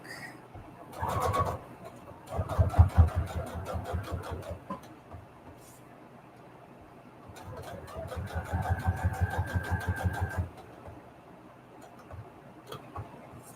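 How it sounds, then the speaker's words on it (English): A sewing machine runs a long straight stitch through cardstock in two rhythmic bursts of rapid needle clatter, separated by quieter pauses with faint handling noise. "I'm just going to use a straight stitch for this and make it a long straight stitch"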